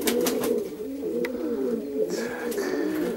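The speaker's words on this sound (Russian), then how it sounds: "видно, это голубка его" A pigeon coos close by in a steady, rolling series of low throaty calls, with brief rustles and a faint chirp in the background, no voices.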